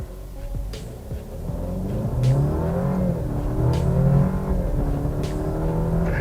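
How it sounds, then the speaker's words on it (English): A 2019 Alfa Romeo Giulia, two-wheel drive, accelerating hard from a standstill in dynamic mode, engine pitch sweeping upward through several quick gear changes, heard from inside the cabin with no talking. "Now let's test what it is like for a 0 to 100."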